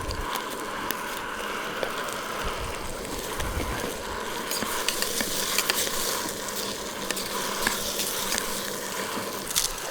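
Garlic sizzles in a pan over a camp stove at a kayak campsite, a steady close crackling fry with scattered clinks and scrapes of stirring, and no talk.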